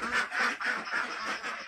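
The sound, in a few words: Pekin ducks quacking in a pen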